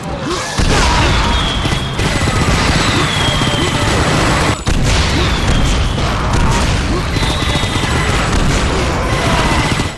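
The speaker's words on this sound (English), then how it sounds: "Explosive barrels are back, but that's not the only thing causing a mess here. Now we've got fireworks." Loud, nonstop blasts, crackling fireworks and explosive barrels going off in the first-person shooter Painkiller form a dense, chaotic barrage of booms and bangs that barely lets up.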